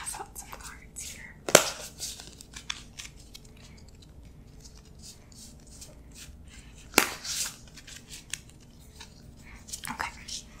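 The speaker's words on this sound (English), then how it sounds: "Also need to pass out some cards here." Clue board game cards being dealt out in a quiet ASMR setting, with soft papery slides and a few sharper card flicks spread sparsely through a hushed background.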